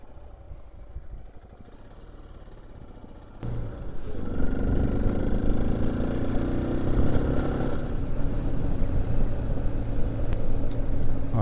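A vehicle drives a corrugated high-speed gravel road in the Northern Territory, with a steady engine drone that jumps louder at about three and a half seconds and then holds a heavy, continuous rumble and rattle.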